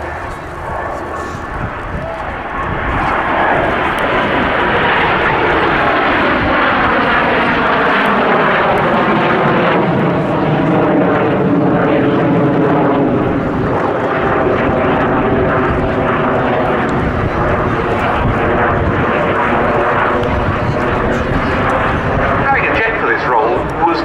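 A BAC Strikemaster jet flying at the Cosford Air Show roars loudly and continuously, its engine tone swelling and shifting as it passes, with a commentator speaking throughout over the noise.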